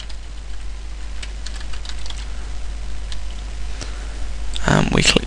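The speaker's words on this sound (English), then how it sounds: "if I type my name in here" Fingers type a name on a computer keyboard, sparse key taps followed by a quick, louder cluster of clicks at the end, close up against a low hum.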